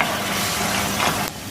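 Fried chickpeas are stirred into bubbling chilli sauce in a pan, with a steady close sizzle and soft scraping of the spoon, followed by a brief louder scrape before it settles.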